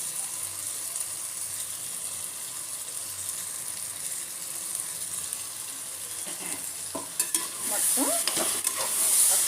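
Flat beans and meal maker soya chunks frying for a vegetable biryani, heard as a soft, even sizzle that gets busier near the end, with clattering stirring strokes and a brief spoken word.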